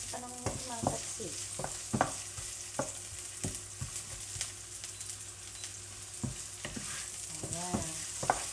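Onions fry in a hot pan with a constant crackling sizzle, broken by scattered clicks and scrapes as they are stirred.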